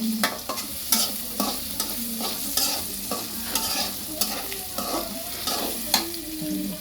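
Potatoes sizzle steadily in a hot pan while a utensil stirs and scrapes, giving irregular clicks and knocks over the frying hiss.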